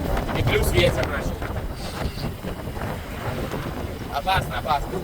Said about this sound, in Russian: И плюс ветер начал.